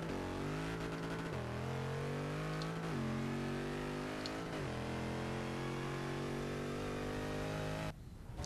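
A 1000-horsepower Dodge Challenger Hellcat engine screams through a Forza 6 drag race, climbing hard in pitch with several sharp gear shifts, loud and continuous before cutting off abruptly.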